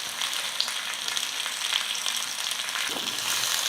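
Boiled potato and raw banana pieces fry in oil in a pan for a dry varuval, giving a continuous, even sizzle up close with faint stirring clicks and no one speaking.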